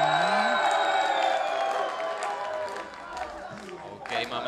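Crowd at a League of Legends esports final cheering for team eXtatus, a loud sustained roar of whoops that eases off, with someone talking over it as it subsides.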